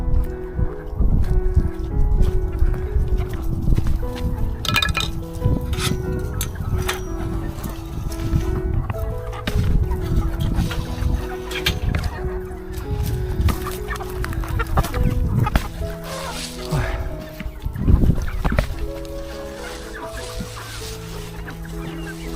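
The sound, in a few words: chickens clucking while being fed chopped vegetables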